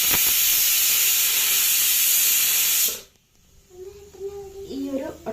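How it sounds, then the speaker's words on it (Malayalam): A pressure cooker cooking chicken curry lets off a loud, rushing steam whistle for about three seconds. It cuts off abruptly, leaving a quieter kitchen where someone talks. "ഈ ഒരു ഒറ്റ വിസിലിൽ കുക്കർ ഗ്യാസ് ഓഫ് ചെയ്യുക."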